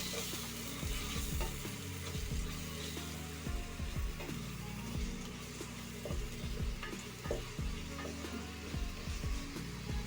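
Ginger-garlic paste fries with onions and tomatoes for a spicy crab curry, under a steady close sizzle and repeated scraping stirs of a spoon against the pan.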